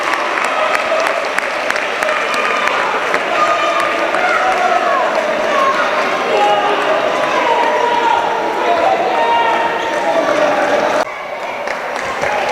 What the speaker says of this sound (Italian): E si finisce tra gli applausi del pubblico di casa per i propri beniamini alla terza di campionato